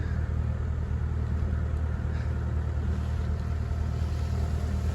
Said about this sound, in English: the new one is being delivered by a tractor very shortly